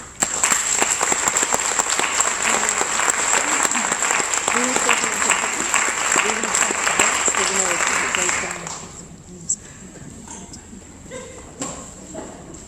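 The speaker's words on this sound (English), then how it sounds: "Let's have another round of applause for all three of us." Sustained audience applause at a child care centre event, dense steady clapping for about eight seconds before it drops away to scattered faint claps and quiet room noise.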